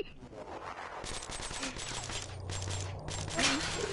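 A gun hip-fired in a first-person shooter video game, bursts of rapid automatic shots in several clusters with short gaps between, fairly close, mixed with game effects and low background hum.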